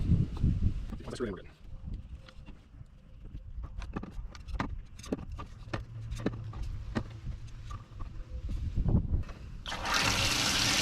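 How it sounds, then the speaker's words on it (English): Water rushes from an opened farm yard hydrant, a steady gushing flow with clanks and knocks of the fittings, while someone talks over it, ending in a louder burst of spray. "So when it's down, the water can flow."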